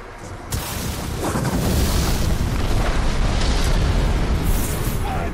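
A bomb blast in the video game Shadow of War, starting with a sharp hit and swelling into a loud, sustained rumble of explosion and debris that fills the remaining seconds.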